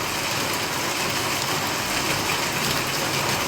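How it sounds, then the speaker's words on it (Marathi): Light rain falls in Chiplun as a steady, even hiss across the whole stretch, close and moderately loud with no voices. "आता ही पाऊस चालू झाला आहे"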